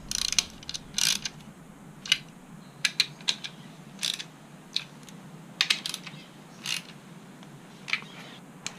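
Small bolts on a Triumph Street Triple engine case guard are torqued down with a hand wrench, giving sharp, close clicking bursts in irregular clusters over a quiet background, with no talking.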